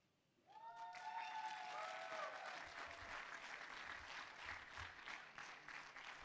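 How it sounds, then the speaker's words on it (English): Audience applause for a poet at an arts festival, steady dense clapping that starts suddenly after a soft tone and holds loud and even, with faint voices mixed into the crowd. "Thank you for that beautiful hand clap without rehearsal."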